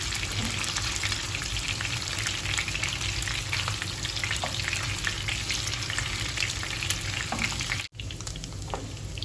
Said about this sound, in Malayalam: നമ്മുടെ ചിക്കൻ റെഡി ആയിട്ടുണ്ട്, നല്ലപോലെ ഫ്രൈ ആയി വന്നിട്ടുണ്ട്